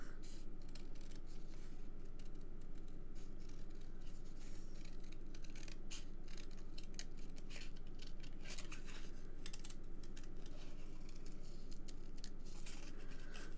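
Scissors snipping through paper while cutting out a large snail shape for a card, a continuous quiet rapid crunching and snipping, close up, with no talk.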